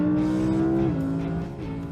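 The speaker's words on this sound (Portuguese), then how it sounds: "é só o barulho do V10" A 610-horsepower V10 car engine revs and accelerates nearby, a loud tonal roar that steps down in pitch as it shifts partway through, with no talk.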